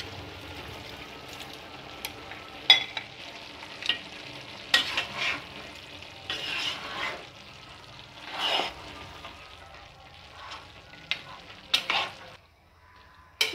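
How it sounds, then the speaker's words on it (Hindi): Boiled beef and kachnar (mountain ebony) buds fry on high flame in a pan, a low sizzle broken by repeated stirring scrapes and clatters of the spoon, irregular and close. "अब हम इसके अंदर गोश्त जो हमने बॉईल किया वो ऐड कर देंगे और उसकी भी भुनाई करेंगे।"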